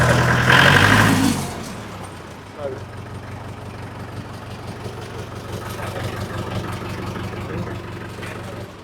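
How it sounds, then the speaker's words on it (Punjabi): A low, steady engine idles with a constant hum, after a brief burst of talking at the start. "ਕੋਈ ਆਵਾਜ਼ ਨਹੀਂ ਜਮਾਂ ਸਾਇਲੈਂਟ ਟਰੈਕਟਰ ਆ"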